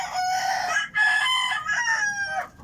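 Golden sweater rooster crowing in a backyard, a loud, near, drawn-out cock-a-doodle-doo in several rising and falling segments, heard alone.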